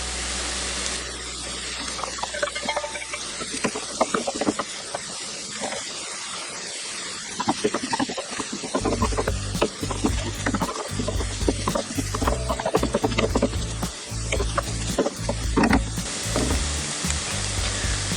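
Red sweet pepper and chopped Swiss chard stems sizzle steadily in a hot pan, a continuous crackling fry with occasional stirring scrapes, close and moderately loud with no talking.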